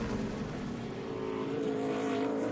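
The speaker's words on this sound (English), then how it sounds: "And now the first car is out here on the racetrack," A NASCAR Xfinity Series race car running on the Chicago street course during practice, a steady engine drone heard at moderate distance, holding a fairly constant pitch with slight rising toward the end.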